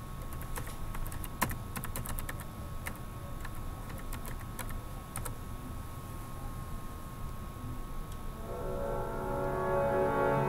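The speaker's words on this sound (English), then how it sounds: "I'm just going to type it in" Rapid keyboard typing, a steady patter of clicks for most of the stretch, over a constant low hum that swells slightly near the end.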